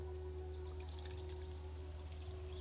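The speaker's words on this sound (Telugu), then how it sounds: "దీన్ని ఇప్పుడే నీళ్లు పోసేసి నానబెట్టేసుకుందాం" Water is poured over a lemon-sized lump of tamarind to soak it in a home kitchen: a steady, quiet, continuous pour with a low electrical hum beneath and no talking.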